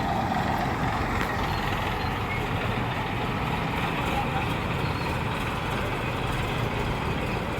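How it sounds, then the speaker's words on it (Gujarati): Tractor moving nearby during heavy rain with lightning, heard as a steady low engine rumble under dense, continuous rain hiss, with no clear pauses. "એ વાળું ટ્રેક્ટર હલવાનું લાગે."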